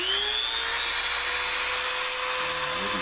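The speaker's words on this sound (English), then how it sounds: "So I'm just going to turn this Dremel tool on." A Dremel rotary tool spins up to a steady high-pitched whine while cutting into a turkey wing bone, loud and continuous, with the pitch dipping slightly near the end as the blade bites.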